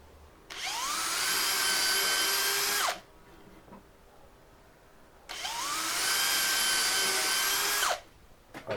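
A power drill boring holes into a piece of wood in two bursts of about two and a half seconds each, whining loudly as the motor spins up and cuts, with a quiet pause between.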